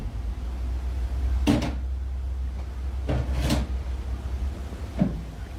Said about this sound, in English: Sounds like something hitting the door.